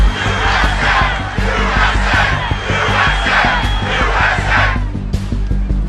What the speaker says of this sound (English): The crowd starts to chant.